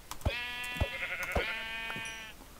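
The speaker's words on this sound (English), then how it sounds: "Now let's see if I can find another sheep" Sheep in the Minecraft video game bleat in several distinct, close cries, the last one drawn out, each set off by a sharp click, with no voices over them.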